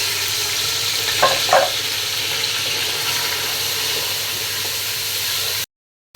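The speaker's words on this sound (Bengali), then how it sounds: "আলুটা ভেজে নিব আমি তেল দিয়ে দিচ্ছি দিয়ে দিচ্ছি" Potatoes frying in oil in a home kitchen, a steady broadband sizzle running evenly at close range with two brief stirring clinks early on, then cutting off abruptly near the end.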